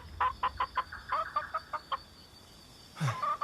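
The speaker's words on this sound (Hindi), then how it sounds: "अरे यार, ये सिर्फ एक मुर्गी है।" A chicken clucks in a quick series of short, clear calls, then a brief pause and a few more clucks, fairly close and moderately quiet over a low background hum.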